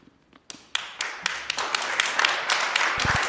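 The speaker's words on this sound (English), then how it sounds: "please refrain from clapping or any other noise" Audience members clap at a city Land Use and Transportation Committee hearing, a scattered ragged burst of hand claps that starts sparse, then builds into a steady smattering of applause in a large room.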